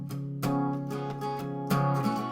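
Strummed acoustic guitar playing a song's chorus, several ringing chord strums with sharp attacks and sustained resonance, solo and close.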